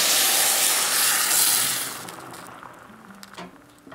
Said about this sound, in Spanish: Ya que las rajas se han sofrito, es momento de agregar la salsa.